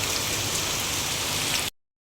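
Steady rain pours outdoors at a work site with no shelter, a dense, even hiss of drops hitting surfaces close by that runs unbroken and then cuts off abruptly.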